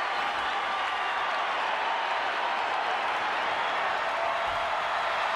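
Arena crowd in the WWE 2K20 wrestling video game applauding, a dense, steady wash of clapping and cheering that holds at an even level throughout, with no distinct voices standing out.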